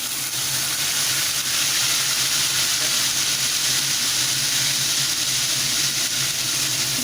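Onion paste hitting hot tempered oil in a pan, cooking a Thakurbari-style summer dish, giving a steady, loud, dense sizzle with bright hiss that holds evenly throughout without pause.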